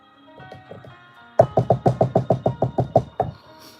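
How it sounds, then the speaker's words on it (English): Knuckles rap on a front door in a rapid run of about a dozen crisp, close knocks, preceded by a few softer taps and then silence. "Penny, can we knock on your door?"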